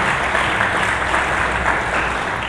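A church congregation applauds for Jesus Christ, a thick, even stream of clapping sustained for a couple of seconds, near and moderately loud.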